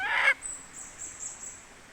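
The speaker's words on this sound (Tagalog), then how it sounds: "Yan ang labuyo dito sa amin" A caught wild junglefowl (labuyo) gives a single loud, harsh squawk lasting about a third of a second, followed by quieter rustling and a faint high hiss.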